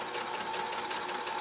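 A sewing machine runs steadily while stitching a baby quilt, a continuous close whirring hum at even loudness with no talk.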